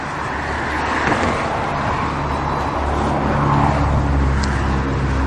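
Steady road traffic beside a runner on a city road, cars passing with a continuous, fairly loud rushing roar that swells and fades slightly.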